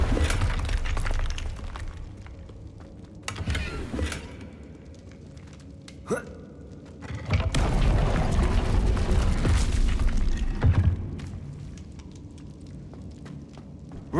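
Confringo fire spell blasts in Hogwarts Legacy, a few sharp booming bursts with shattering debris, set over ongoing game ambience and footsteps, with a faint voice now and then.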